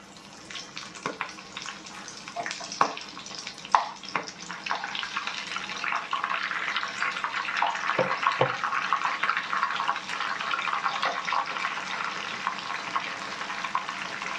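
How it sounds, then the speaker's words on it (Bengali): Prawns dropped one by one into hot oil on a medium-high flame, producing a close, steady sizzle and crackle that builds and thickens over time, with faint occasional clinks. "গরম তেলের মধ্যে আমি একে একে চিংড়ি মাছগুলো দিয়ে দিচ্ছি"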